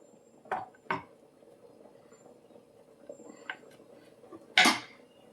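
A knife slices a block of paneer into pieces on a cutting board, producing a few sharp, separate taps and clicks spaced apart against a quiet background.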